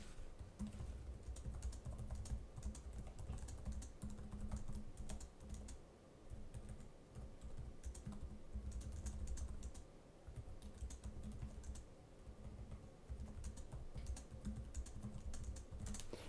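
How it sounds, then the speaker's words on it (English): Fast, steady typing on the keyboard of a 2024 Lenovo Yoga Pro 9i laptop, a soft continuous patter of close key clicks with no talking. "Let's do a quick typing test here."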